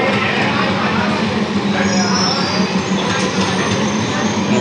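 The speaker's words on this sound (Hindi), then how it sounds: "नई दिल्ली रेलवे स्टेशन से ट्रेन चल पड़ी है।" An Indian passenger train rolls along after pulling out of New Delhi railway station, a loud, steady rumble of wheels and carriages with a constant hum and faint rattling, heard from inside the coach.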